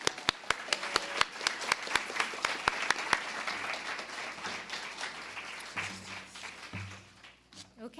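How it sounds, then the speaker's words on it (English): Applause at a literacy program graduation ceremony, a few sharp close claps over broad crowd clapping that gradually dies away, with some murmured talk underneath. "So big round of applause."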